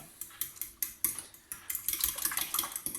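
Grated cheese being mixed quickly in a bowl for a beef quiche, with a utensil clinking and scraping against the bowl in a brisk, irregular rhythm, close up and with no talking.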